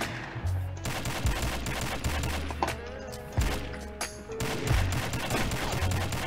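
Gunfire from a gun in the shooter game Combat Arms Reloaded, rapid bursts of shots popping at moderate loudness with short gaps between them, mixed with game effects and no talk.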